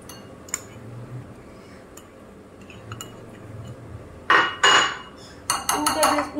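Dishes and a spoon clink as mayonnaise goes into a bowl for dynamite sauce for chicken popcorn, with a few soft taps early on, then louder scraping and clattering bursts near the end over low room hum.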